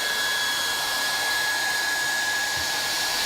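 A handheld Triac hot air welding gun blows steadily while welding a vinyl floor rod along a miter, giving a continuous loud, close hiss with a thin high whine and no pauses.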